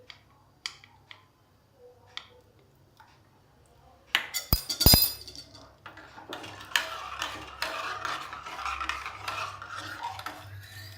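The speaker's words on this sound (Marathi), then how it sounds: "आता परत व्यवस्थित हलवून घ्यायचं" A spoon stirs buttermilk besan kadhi in a pot: a few sparse clinks at first, then busy scraping and clinking of metal against the pot.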